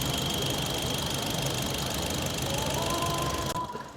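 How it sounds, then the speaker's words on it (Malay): A Proton Saga Standard MC3 with a four-cylinder engine idles in a steady, even hum with a faint ticking texture, cutting off near the end. "cuba dengar dia punya bunyi enjin"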